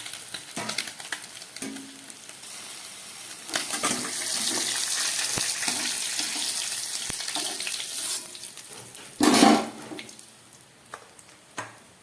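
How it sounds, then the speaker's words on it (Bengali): Small tengra fish fry in hot oil with a steady broadband sizzle, close and continuous, broken by clatter and stirring scrapes and a loud burst of spatter near the end. "মাছগুলো আমার একদম ভাজা হয়ে গেছে"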